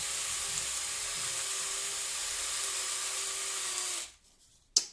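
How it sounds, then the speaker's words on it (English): A drill spins a wooden ship-model spar against 60-grit sandpaper to taper it, giving a steady, fairly faint whirring rasp that runs unbroken for about four seconds and then stops abruptly. "I activate the drill."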